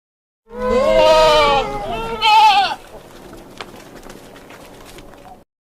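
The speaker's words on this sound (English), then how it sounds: "Different sounds of a goat." A goat gives a close, loud wavering bleat, followed by a second shorter cry. A softer, low-level background continues for a few seconds afterward.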